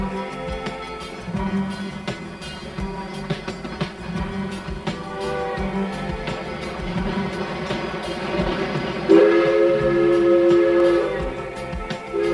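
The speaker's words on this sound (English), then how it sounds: "The engineer gives 2 blasts of the whistle." A steam whistle on a narrow-gauge steam locomotive gives two blasts, a sustained tone over the steady chugging rumble of the train getting under way.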